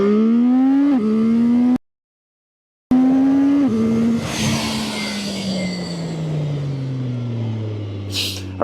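A Triumph 675SR-R or Kawasaki ZX6-R sport motorcycle accelerating hard from 0 to 100 km/h on a city street, the engine climbing sharply through quick gear changes, interrupted by a brief silent gap, then settling into a falling drone as the bike pulls away.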